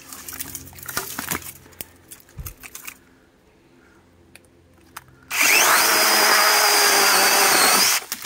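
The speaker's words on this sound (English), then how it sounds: "this chainsaw is not a toy" Scattered knocks and handling noises, then a 6-inch electric chainsaw whines loudly into rotten wood for about three seconds and stops abruptly.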